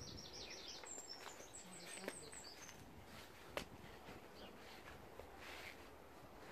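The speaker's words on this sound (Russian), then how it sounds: "Очень погода хорошая, птички чирикают." Small birds chirp and tweet outdoors on a fine morning, light scattered calls over a soft wash of background noise, fairly distant and faint, with a couple of brief footstep-like knocks.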